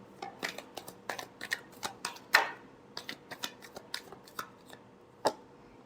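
Tarot cards are shuffled in a quick series of crisp, dry riffling clicks and taps, close and fairly quiet, with one louder snap near the middle and one near the end.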